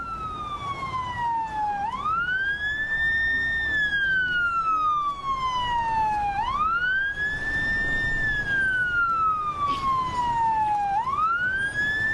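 Ambulance sirens wail in Beirut, Lebanon after an explosion, rising and falling in long repeating sweeps, steady and close, with a faint hum of traffic beneath.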